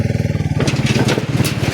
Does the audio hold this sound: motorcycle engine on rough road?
yes